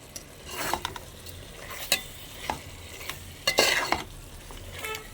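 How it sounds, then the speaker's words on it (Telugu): Chicken curry with chili powder is stirred in a pan, giving close scraping and clinking of the spoon against the metal over a light sizzle, in irregular bursts with no talking. "ఒకసారి కలిపేసుకుందాం ఫ్రెండ్స్"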